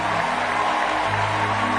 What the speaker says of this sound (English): Keep clapping till I ask you to stop.